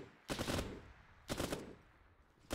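Two short bursts of automatic gunfire in a video game battle, each lasting about a third of a second, about a second apart, sharp and moderately close against a quiet background.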